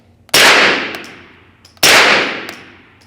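Two loud, sharp gunshots from a pistol-caliber carbine, a Springfield KUNA or MP5, fired outdoors about a second and a half apart, each crack followed by a decaying ringing tail.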